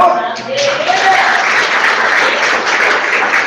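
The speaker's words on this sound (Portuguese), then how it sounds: "Você pode dar um aplauso para o Senhor?" A church congregation gives loud, sustained applause as a preacher's voice trails off at the start, dense clapping filling the room close by.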